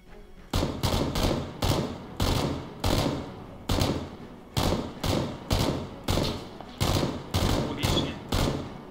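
Repeated bursts of gunfire from the battle game PUBG (Battlegrounds), about a dozen sharp, loud shots in a steady rhythm roughly every half second to second, each with a short echoing tail and no talk over them.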